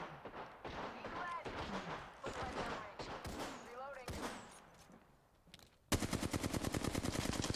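Rapid automatic gunfire in Apex Legends, a loud steady burst of close shots at the end, following a stretch of busy game sounds and sharp impacts.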